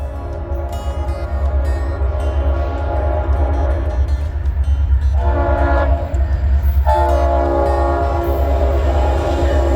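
Multi-chime K5LA air horn on Norfolk Southern SD60E locomotive 6959, sounding in two loud sustained blasts over the steady rumble of the passing train, with no voices.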